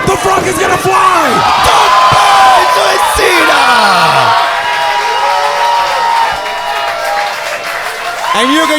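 A wrestling crowd roars for Eddie Roar at a live match, a loud, sustained wall of cheering and applause laced with whoops and shouted yells that peaks early, dips briefly, then swells again.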